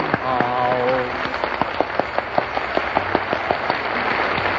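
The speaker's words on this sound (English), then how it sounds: "Oh, Frank, that applause wasn't for you." Studio audience applause on a 1938 radio variety show, a spread of crisp claps rising after a sung phrase and carrying on steadily, heard through an old, narrow-band broadcast recording.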